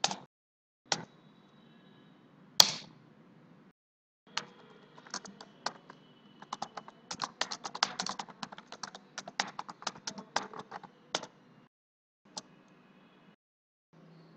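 Computer keyboard keys click in quick, irregular bursts of typing, with a few isolated taps before and after the main run, close and crisp in a quiet room.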